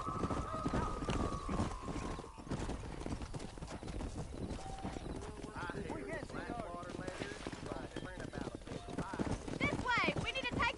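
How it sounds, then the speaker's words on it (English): Cows being herded down a road in a video game, with a dense, continuous clatter of hooves and occasional animal calls, loud and close, and voices talking over them throughout. "Herd the cows down the road."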